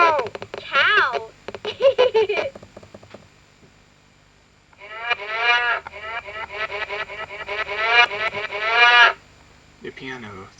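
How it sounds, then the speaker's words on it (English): A circuit-bent toy keyboard plays an electronic cow moo, long and wavering, twice with a short quiet gap between, loud and close, and a voice joins briefly at the end. "Moo! Cow!"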